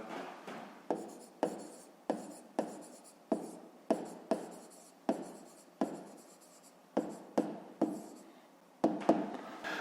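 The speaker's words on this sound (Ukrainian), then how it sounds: "Ну і записуємо сторони прямокутника." A pen scratches across paper in quick repeated strokes, each stroke starting sharply and trailing off, with brief pauses between bursts while sides of a rectangle are written down for a fifth-grade math exercise.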